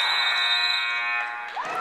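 An end-of-quarter buzzer sounds at a junior varsity boys basketball game, a loud sustained electronic drone lasting well over a second before fading, with faint crowd noise beneath.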